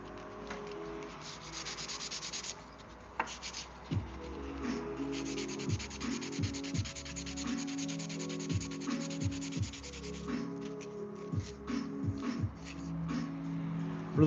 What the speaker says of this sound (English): Really trying to burn up this crappy sandpaper